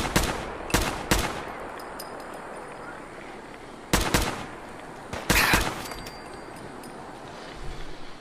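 Gunfire in the video game Fallout 4, sharp shots in short bursts of two or three cracks separated by quieter gaps with faint ambient noise.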